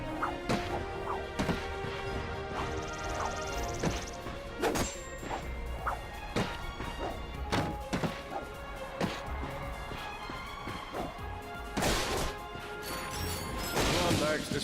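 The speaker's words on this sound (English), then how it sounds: "Look at him smashing crates." Repeated wooden crates smashing in a Ratchet & Clank game, sharp cracks and thwacks scattered over about fifteen seconds amid game effects and music.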